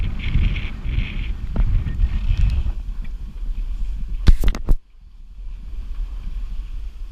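Sailing boat under full sail crossing Pennyhole Bay on auto helm steering, steady wind buffeting the microphone with water rushing along the hull and a brief clatter partway through.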